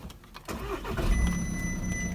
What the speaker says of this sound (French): Je vais vous la démarrer parce que c'est toujours intéressant